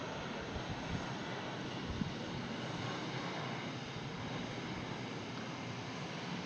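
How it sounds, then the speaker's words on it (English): A LATAM airliner landing at Brussels Airport, arriving from Miami, heard as a steady, broad jet roar that stays constant throughout, loud and enveloping, with no talk. "It's not always easy to follow a landing airplane"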